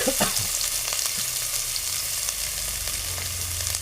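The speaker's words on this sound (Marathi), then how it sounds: "कांदा परतून घेऊया" Chopped onion frying in hot oil for a traditional banana flower curry, a loud steady sizzle with repeated stirring scrapes and spatula knocks all the way through and no voices.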